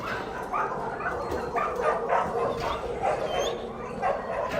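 Several dogs bark and yip continuously in an enclosed animal shelter, a busy overlapping chorus with some whimpering mixed in.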